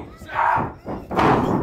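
A heavy wrestling slam lands on the ring mat in two thudding impacts with crowd noise around them, the second thump louder and followed by rumbling reaction.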